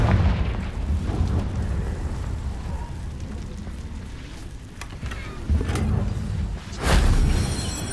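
Confringo spell explosions in the game Hogwarts Legacy, a few deep booming blasts, the loudest near the end, over a continuous rumbling battle ambience.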